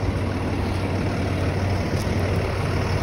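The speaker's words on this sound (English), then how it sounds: "Right now I'm off next to a moving truck, that's why there's a lot of noise." A moving truck idles close by on a neighborhood street, giving a loud, steady low rumble with constant broadband engine noise and no speech.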